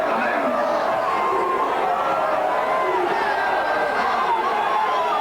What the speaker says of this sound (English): The crowd is sensing the occasion, then they're beginning to raise the voices.